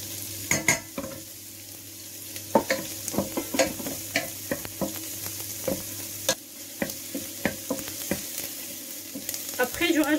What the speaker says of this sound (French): Je vais faire revenir les échalotes